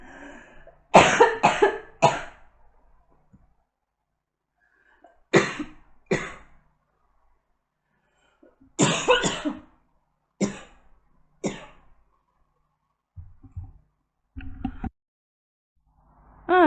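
A woman coughs in a fit of harsh, repeated bursts, several clusters separated by brief pauses, loud and close, ending in softer throat-clearing sounds.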